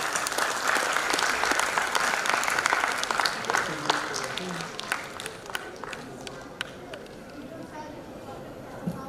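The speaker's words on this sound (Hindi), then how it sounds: "तो एक बार जोरदार तालियां हमारे कपल के लिए।" Enthusiastic audience clapping for a couple at a 75th celebration event, sustained and dense at first, then gradually thinning and fading out.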